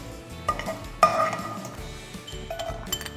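Roasted cashews being scooped out of a pan while making Kashmiri paluo, with clinks of a metal spoon against cookware, one sharper knock near the middle and a faint sizzle underneath.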